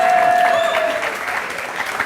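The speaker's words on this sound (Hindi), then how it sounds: "जैसे यहाँ आपकी बातों पर लोग तालियां बजा रहे हैं" Studio audience applauding on an Indian television courtroom-style talk show, a dense steady wash of clapping that starts loud and tapers slightly over two seconds, with a faint tonal whine at the start.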